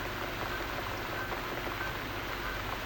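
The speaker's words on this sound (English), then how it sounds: "Looks like we've got the rain back." Steady, even hiss of rain falling in the video game The Cat Lady, a constant wash of soft patter with no voices, holding at a low, unchanging level throughout.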